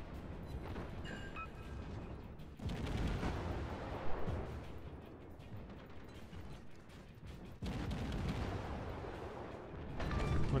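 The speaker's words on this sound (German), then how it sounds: "Jetzt können wir auch mal losfeuern." Warship guns fire in the naval combat game World of Warships, heavy booming salvos standing out at a few moments over a constant rumbling, mechanical game soundscape.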